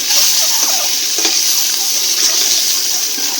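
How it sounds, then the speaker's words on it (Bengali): Eggs fry lightly in a hot wok for pulao, giving a steady close sizzle mixed with scraping stirring strokes and a brief clatter partway through, with no talking. "এই ডিমগুলো প্রথমে হালকা ভেজে নিই,"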